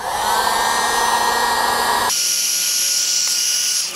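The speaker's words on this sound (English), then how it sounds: "Get your heat gun" A heat gun blows a steady, loud hot-air roar while shrinking heat shrink tubing over a wire connection for a Toyota Tacoma blind spot mirror. The tone shifts partway through and keeps running alone without talk.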